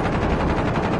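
Enemy gunfire in the Call of Duty video game comes as a rapid, loud automatic burst of closely spaced shots filling the whole moment.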